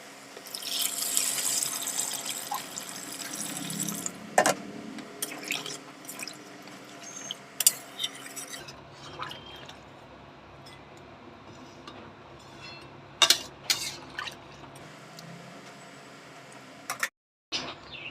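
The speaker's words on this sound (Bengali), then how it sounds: "জল তো দিয়ে দিলাম" Water poured into a pan of yogurt chicken curry, giving a brief splashing pour near the start followed by scattered clinks, drips and stirring sounds, close and quiet.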